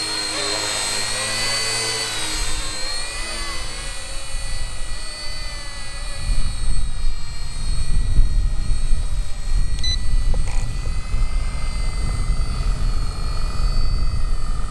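A small RC ERA C032 1/48 scale Huey toy helicopter flies outdoors in wind, its rotor whine and motor hum steady and fairly loud throughout, with a rougher gusty rumble building in the second half.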